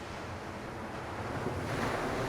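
Bahamas ocean waves wash ashore in a steady broadband roar, with surf building slightly toward the end and some wind noise on the microphone.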